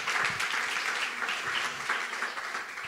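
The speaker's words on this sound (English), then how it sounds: "Let's give a round of applause for Teemu." Audience applause for a speaker at a talk, a steady dense wash of many hands clapping throughout, fairly distant and even in level.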